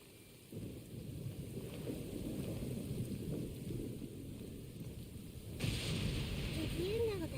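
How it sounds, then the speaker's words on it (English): Thunderstorm in Genshin Impact: steady heavy rain hiss with low rolling thunder rumble throughout, swelling louder near the end, where a brief tonal sweep also rises. "sound of thunder is the prelude to new life?"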